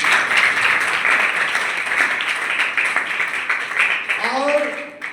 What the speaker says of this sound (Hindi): साधु साहब के लिए तालियां बजा रहे हैं